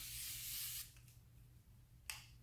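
Chanel Hydra Beauty Essence Mist is sprayed as a close, hissing mist burst of nearly a second. A second short, faint spritz follows moments later against a quiet room with a low hum.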